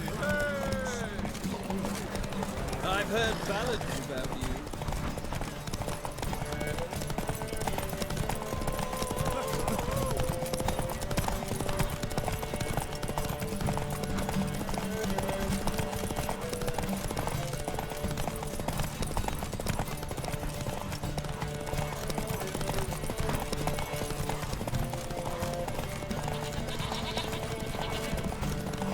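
Horses galloping in a race in The Witcher 3, a continuous rapid clatter of hooves running throughout, mixed with game music and spoken voices over the top.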